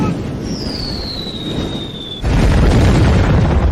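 Grenades bursting on a battlefield in a war film: a falling whistle over a rumbling background, then an abrupt loud explosion that leaves a sustained roaring blast noise.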